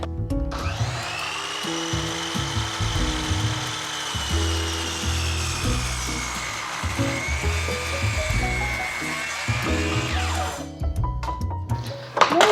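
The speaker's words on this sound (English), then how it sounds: "It's my first time making a miter cut on this saw." A miter saw cutting a miter on trim whirs with a high, sustained motor whine for about ten seconds, then spins down, alongside uneven low thumps.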